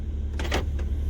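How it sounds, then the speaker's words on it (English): Power door locks on a 2009 BMW Z4 sDrive35i clunk as the lock button is pressed, a short mechanical burst of two or three quick clicks over a low steady cabin hum. "This button here is to lock the vehicle"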